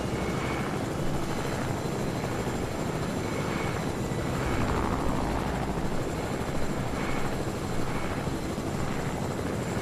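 Helicopter in Fortnite, a steady rotor drone and engine roar holding close and loud throughout with a rhythmic pulsing thump.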